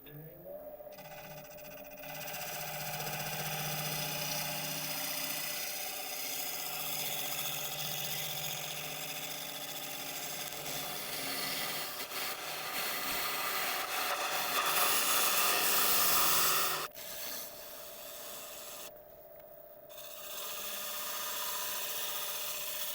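A woodturning lathe spins steadily while a tool shears along a curved edge of the turned piece, a continuous whirring hum with rough, scraping cutting noise that swells and briefly breaks off.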